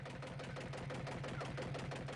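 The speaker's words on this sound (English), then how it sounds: "costly old diesel engines pump up a limited supply of groundwater into tanks" Old diesel engine on dry Yemeni plains pumping groundwater into tanks, a steady, even mechanical chugging with a low throb that runs unbroken throughout.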